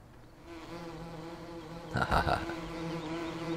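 Bees buzzing around two beehives on a farm in the video game Farming Simulator 17: a steady, close insect drone with a louder swelling burst partway through, and no voices.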